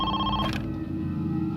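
A telephone rings in a repeating electronic trill over a low background hum, heard as one ring while awaiting a kidnapper's ransom call.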